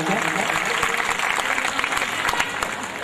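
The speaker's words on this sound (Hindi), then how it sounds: "जोरदार तालियों से स्वागत रामू कुमार जी का" An audience at a Hanuman Chalisa katha gathering in Karond, Bhopal applauds to welcome a flute player, a steady loud patter of many hands lasting a few seconds, with faint crowd murmur mixed in.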